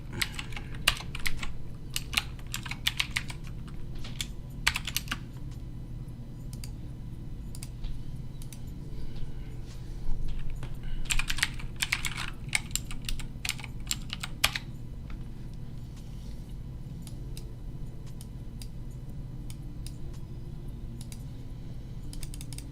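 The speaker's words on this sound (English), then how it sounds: "I didn't finish typing out the GU screenshot" Steady typing on a computer keyboard at a trading desk, with quick bursts of clustered keystrokes broken by short pauses over a low, constant room hum, close and fairly quiet.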